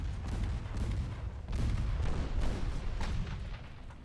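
Naval guns fire a salvo in the video game Ultimate Admiral Dreadnoughts, several deep rumbling booms rolling out one after another over a low, continuous background roar.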